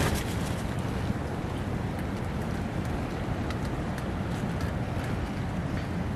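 Strong wind roars steadily throughout a cold winter night in urban woods, a dense broadband rush with gusty buffeting against the microphone, loud and continuous with no voices.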